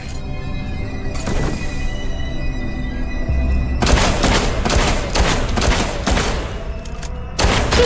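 Powder kegs shot and detonated in Duet Night Abyss, a loud barrage of rapid blasts and crackling bursts that swells after a brief early burst, with a short pause before a final volley.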